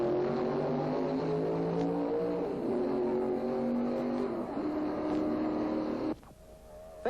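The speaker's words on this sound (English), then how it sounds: "Fangio and Hawthorne flash past the pits at tremendous speed" Two 1957 Formula 1 race cars roar past the pits at Reims at high speed, a loud, continuous engine howl with shifting pitch that cuts off abruptly near the end, leaving a brief quieter gap before a last burst.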